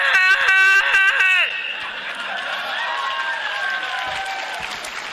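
An audience at a live panel for the game Red Dead Redemption breaks into dense, loud applause mixed with whoops and cheers, then the clapping fades into lighter crowd murmur as a voice speaks over it.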